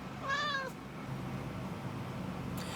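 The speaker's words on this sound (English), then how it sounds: "this is my cat Tarot." A domestic cat gives a single drawn-out meow near the start, clear and fairly close, followed by quiet room tone with a faint short sound at the end.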